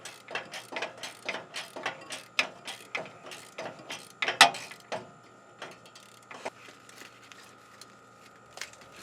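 A hand ratchet cranks out a bolt from the starter on a 1994 Ford F350 dually, with a steady series of close, sharp clicking strokes and a brief metallic clank partway through.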